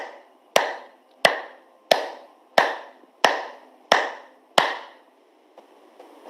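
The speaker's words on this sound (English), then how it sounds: "But when you clap, ensure that all these points meet" Hands clap firmly as part of a yoga exercise. Seven sharp, close claps come at an even pace of roughly one every two-thirds of a second, each ringing out briefly, then stop.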